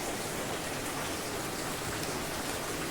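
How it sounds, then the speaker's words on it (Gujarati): Heavy rain pouring down, a dense, loud and unbroken hiss of countless drops striking surfaces nearby, steady throughout with no pauses. "વરસાદ તો જો આજે ચાલુ જ છે"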